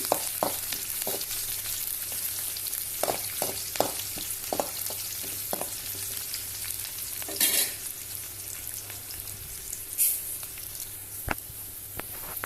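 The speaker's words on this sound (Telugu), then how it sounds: "కరేపాకు బాగా ఎర్రగా వేగనిద్దాం" Curry leaves and small onions fry in hot oil for a gongura prawn curry, giving a steady close sizzle with sharp crackling pops and occasional louder hissing spurts, with no talking.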